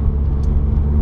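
A Nissan S15 project car that previously blew its engine is driven, its motor giving a steady, close, low rumble heard from inside the cabin for about a second.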